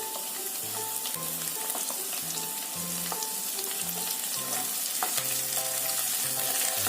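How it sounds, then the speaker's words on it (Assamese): Sliced onions fry in a pan, a steady crackling sizzle heard close up under faint tonal music, continuing evenly throughout without any talking. "এতিয়া এইখিনি অকণমান পিঁয়াজখিনি ব্ৰাউন হোৱালৈকে ভাজিম"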